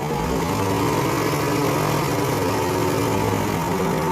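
A motorcycle engine idles steadily after its RPM has been turned down, a continuous even running drone close to the microphone with no talk over it.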